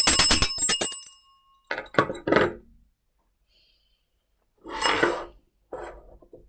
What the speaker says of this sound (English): I'm going to cleanse the space orally with the bell